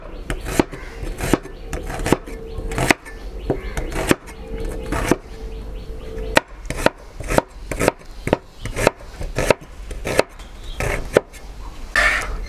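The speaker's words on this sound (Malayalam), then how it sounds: "അപ്പോൾ സവാള കട്ട് ചെയ്ത് കഴിഞ്ഞിട്ടുണ്ട്" Knife chopping onions on a cutting board in a home kitchen for Kerala-style mutton curry, a run of crisp, close, irregular blade strikes with brief pauses between bursts.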